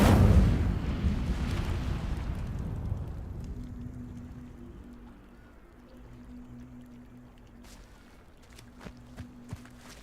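An Incendio fire spell cast in the video game Hogwarts Legacy: a loud burst of whooshing flame that fades over several seconds into a low rumble, followed by a few soft clicks and taps.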